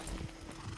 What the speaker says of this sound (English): Oh, free horse.